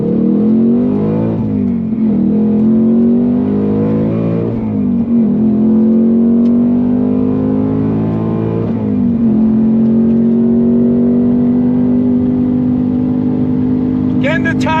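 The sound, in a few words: 2024 Ford Mustang Dark Horse accelerating on throttle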